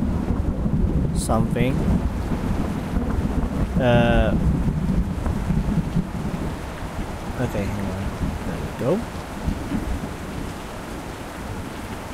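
Steady rain and rumbling wind-like thunder fill a horror video game scene, with muffled booms and brief clicks, under occasional casual talk.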